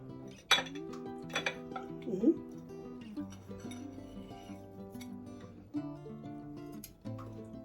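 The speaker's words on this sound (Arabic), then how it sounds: "نحطها في الطبق بتاعنا" Crispy oil-based kunafa is transferred onto a serving plate with a few clinks and scrapes of metal on a dish, quiet and close, under a woman's speech.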